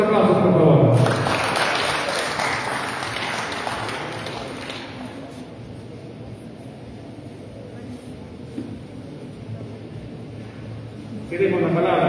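An audience applauds at a formal agreement-signing ceremony, loud at first and then fading into a quieter room murmur with some voices, before a brief rise near the end.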